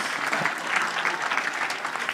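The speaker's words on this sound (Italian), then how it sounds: "farei un applauso per la serata" Audience at a presentation evening claps in a brief, lively round of applause, many hands at once filling the room evenly from start to finish.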